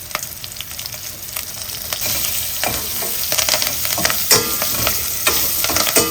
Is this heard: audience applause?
no